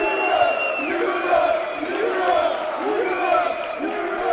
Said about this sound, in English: And now the European crowd has something to cheer about for the first time tonight.